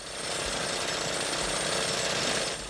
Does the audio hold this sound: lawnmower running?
yes